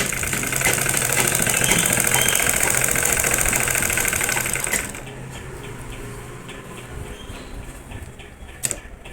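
A sewing machine runs in a rapid, steady chatter while stitching the stretched elastic section of a saree belt, then stops about halfway, leaving quiet fabric handling and a faint click.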